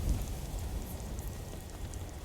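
Steady rain from a weather mod in the video game Skyrim, a continuous close hiss of falling drops with low rumbling texture, no voices over it.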